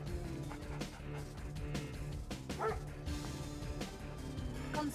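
Dog units barking in the Command and Conquer real-time strategy game: repeated short yips and barks over busy game music and effects, mid-distance and moderately loud.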